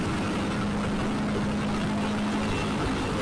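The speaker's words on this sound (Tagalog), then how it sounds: "Yung mga maririnig kayo ng mga ingay ng mga motor, mga sasakyan, ang truck" Street traffic with motorcycles, cars and a truck on Roxas Boulevard in Metro Manila forms a steady, dense wash of engine noise, a continuous nearby drone with no distinct single pass.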